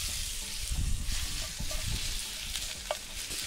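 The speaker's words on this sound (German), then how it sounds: "wenn unsere Pfanne auch heiß genug ist, dann machen wir mal ein wenig Öl rein und dann werfen wir unsere Zwiebeln rein" Onions tossed into hot oil in a pan sizzle and fry, with a steady crackling hiss and a few stirring knocks, close up and with no voices.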